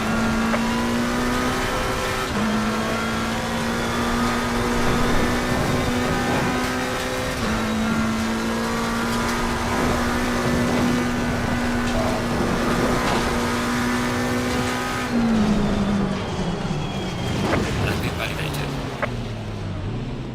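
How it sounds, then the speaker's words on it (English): A race car engine in a VR racing game at Bathurst, running steadily while low on fuel, with a droning tone that shifts pitch and sags at the end as the motor starts to sputter. "Car sounded like it was about to run out of fuel"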